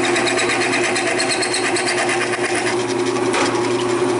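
Drill boring through deer antler, a steady high whirring grind that holds constant with slight shifts in pitch, close and loud.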